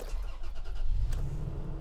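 A 2022 Toyota Tacoma SR5 Trail 4x4 pickup engine starting with a key, giving a short crank that catches into a low, steady idle rumble, close and alone.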